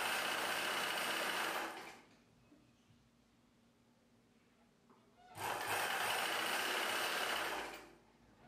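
A sewing machine stitching a poncho in a tailoring class runs in two loud, steady bursts of about two and three seconds, separated by a quiet pause.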